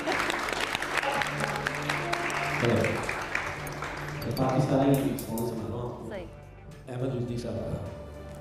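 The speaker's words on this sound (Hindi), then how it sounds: "बहुत सारी तालियां ली" Studio audience applauding on a Pakistani variety show, a dense sustained clapping that swells midway, briefly dips, then returns loudly alongside a host's voice and background music.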